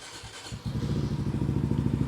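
A 2023 Honda Trail 125 motorcycle idles loudly nearby, its aftermarket exhaust throbbing in a fast, steady, lumpy pulse after a brief quieter start.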